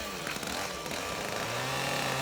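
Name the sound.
chainsaw running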